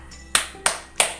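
Three sharp, evenly spaced hand claps ring out close and clear as part of a children's clapping game, each crack followed by a brief decay in an otherwise quiet room.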